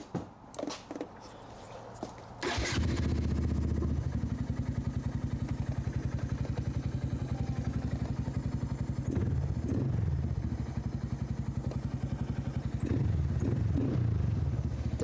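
A Honda Grom motorcycle fitted with a cold air intake is started outdoors: some clatter, then the small engine catches at about 2.5 seconds and settles into a steady, loud, close idle with a couple of brief revs.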